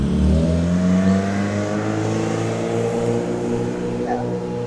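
A car pulls away from a neighborhood street, its engine droning steadily with a gentle rise and fade as it moves off, heard alone at moderate distance.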